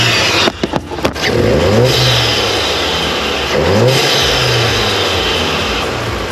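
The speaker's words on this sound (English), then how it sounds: "So here's some revving from the GTI." A Volkswagen Golf GTI Mk7.5 with an open aftermarket intake revs hard, a couple of quick blips followed by two longer rising and falling revs, loud and close with no talking.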